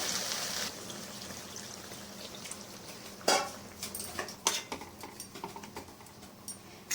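Hot water poured into a cooking pot of prawn and mixed vegetable ghonto, a brief splashing pour at the start followed by quieter kitchen clatter and a few sharp knocks, close and moderately loud.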